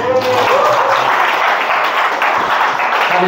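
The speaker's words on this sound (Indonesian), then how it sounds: "Tepuk tangan." Steady, dense audience applause at a church gathering fills the whole stretch, loud and continuous, with faint voices rising over it near the end.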